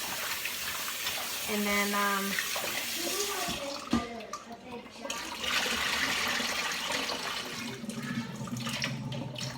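Tap water runs steadily into a sink while beef is rinsed in a kitchen, a continuous close splashing wash with a voice talking briefly over it.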